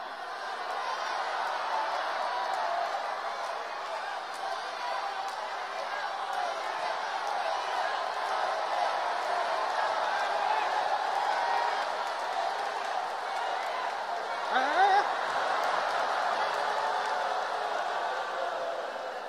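A live crosstalk comedy audience at a Deyunshe show keeps up a steady roar of cheering, hooting and chatter for the whole stretch, with a brief louder swell near the end and a performer's voice over it.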